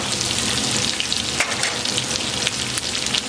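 Chicken cooking on a hot tawa, a loud, continuous close-up sizzle with dense crackling spits and pops that hold steady throughout.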